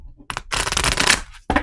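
A deck of oracle cards is shuffled by hand in a short riffling burst, preceded by a couple of quick taps and followed by another brief flick of cards, close and crisp.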